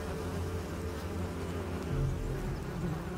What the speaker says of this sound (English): Squadrons of carnivorous rainforest wasps.